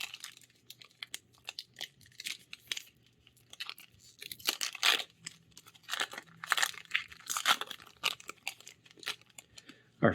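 A foil Phyrexia: All Will Be One Magic card pack is torn open with close, irregular crinkling and ripping bursts that grow louder midway, with no talking.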